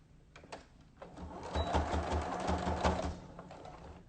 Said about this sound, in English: all we're going to do is sew over here a straight stitch that locks all of these pleats